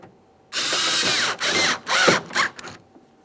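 A ratchet tightens the door handle mounting bolts on a 2011-2021 Jeep Grand Cherokee: three loud, close bursts of rapid clicking, then a shorter fourth.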